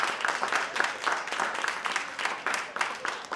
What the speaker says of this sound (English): Can we clap louder than that?